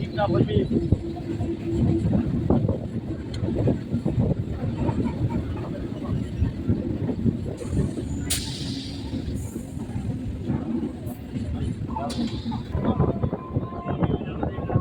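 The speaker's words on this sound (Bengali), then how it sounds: "ট্রেন এখন বেরিয়ে যাচ্ছে সূর্যপুর স্টেশন দিয়ে" A Sealdah–Namkhana local train rolls through Suryapur station with a continuous heavy rumble and rattling wheel clatter, loud and close. Wind buffets the microphone, a voice speaks over it, and brief higher hisses cut in partway through.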